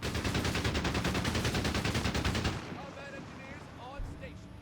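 A rapid, loud burst of machine gun fire from the World War II strategy game Company of Heroes 3, a dense unbroken stream of shots lasting a couple of seconds before it cuts to quieter game sounds.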